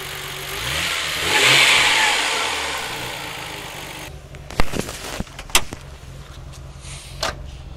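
A Nissan Skyline GT-R R33 engine revs up loudly and then settles, followed by a few sharp clicks and knocks nearby, with no talking.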